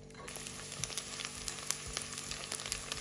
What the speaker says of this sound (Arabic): بس قليت البصلة وصارت بهيدا الشكل